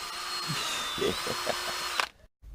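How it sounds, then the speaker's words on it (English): A power drill whines steadily at close range, its motor pitch wavering with low thumps as it bores through material, then cuts off abruptly. "Alright, so yeah, I got the hole drilled."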